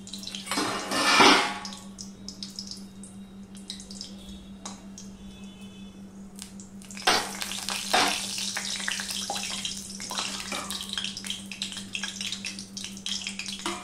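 A dried red chili hits hot oil with a sharp burst of sizzling, then quieter crackling, before a second, longer stretch of spitting, popping frying noise close by.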